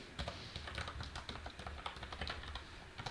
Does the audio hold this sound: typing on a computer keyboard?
yes